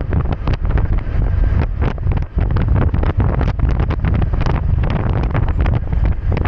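Strong wind near San Roque by Bitoon Beach in Southern Leyte on a solo ride: loud, continuous buffeting roar with rapid gusty thumps battering the microphone throughout, no voices.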